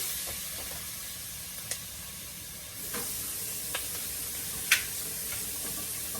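Vegetables sauté in a pan with a soft, steady sizzle, broken by a few sharp clicks and scrapes of stirring utensils, fairly quiet and close, with no voices.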